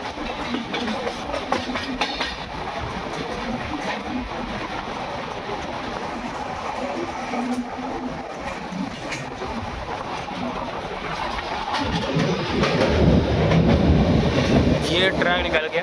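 The Lucknow double decker express train runs steadily on its rails between Bareilly and Moradabad, with a continuous rumble and clickety-clack that swells louder toward the end, heard from inside the moving carriage.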